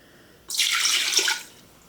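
A short splash of about 1.5 cups of water pouring into the bottom of an Instant Pot, starting abruptly and lasting about a second before tapering off.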